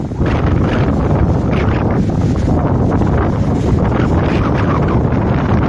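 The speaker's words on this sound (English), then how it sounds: "it's a little windy up here" Strong, steady wind roars across a mountain trail, a loud broadband rush buffeting the microphone without pause, with no voices heard.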